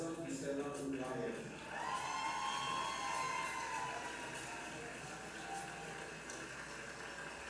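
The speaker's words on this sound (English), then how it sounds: "Please give a rousing cheer for the LIC Elementary Teacher of the Year from Loma Linda Elementary School" An audience at a school board meeting cheers and applauds for the elementary teacher of the year, a sustained mass of clapping and shouting voices that rises, peaks, and slowly tapers off.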